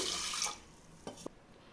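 Brief splashing of water as chana dal (split chickpeas) is rinsed, a short swish followed by a couple of faint sloshes, quiet and close.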